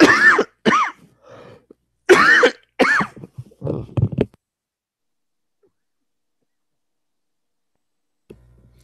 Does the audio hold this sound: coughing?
yes